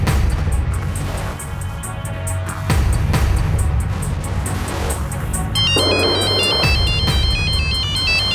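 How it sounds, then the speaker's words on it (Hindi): A telephone ringtone in a Crime Patrol crime drama episode plays loudly and continuously, its repeating electronic melody cycling over a dense backdrop of dramatic score. "अंजलि का फोन है।"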